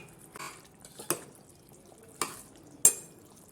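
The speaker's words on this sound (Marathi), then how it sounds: "आता आपण यामध्ये टाकू आपली भेंडी. आता आपण याला मिक्स करून घेऊ." Okra being stirred into an oily gravy in a pan, heard as a few sharp spoon scrapes and clinks against the pan spaced apart, with quiet sizzling between them.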